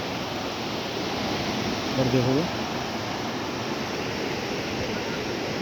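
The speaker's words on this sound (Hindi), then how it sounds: "रात भर बारिश होने के कारण आज नदी का जल स्तर भी बढ़ रखा है" A river swollen by overnight rain rushes past near a village by the NH 121 highway, a steady, loud, broadband roar of flowing water, with a voice briefly speaking over it.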